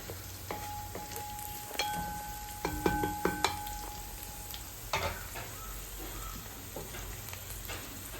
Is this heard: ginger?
yes